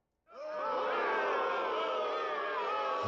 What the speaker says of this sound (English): So you got to just go with the generic crowd boo, right?